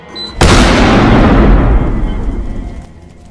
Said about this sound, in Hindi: पटाखों की आवाज यहाँ तक आई है